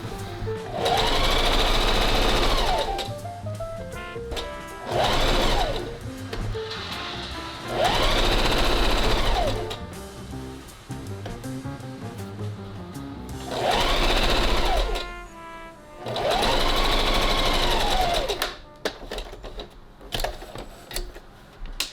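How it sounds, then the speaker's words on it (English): A sewing machine stitches the arm side seam of a winter garment, running in several loud mechanical bursts of rapid whirring with short pauses between them, close up. "I'm just gonna sew just in the arm side."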